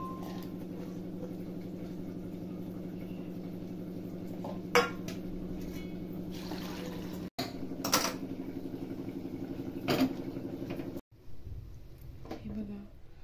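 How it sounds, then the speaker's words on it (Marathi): Chopped chirchurta wild greens cook in a pot over a steady humming flame, with occasional metallic clinks and scrapes of utensils against the pot. "आता आपण शिजवून घेऊया ते, जेणेकरून त्याचा थोडा कडूपणा कमी होईल जरा"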